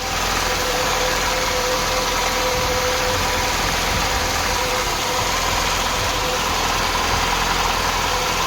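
Austin Ambassador Vanden Plas car engine, just after carburettor and ignition service, running at a steady loud idle with an even mechanical drone and faint knocking throughout, close up and without talk.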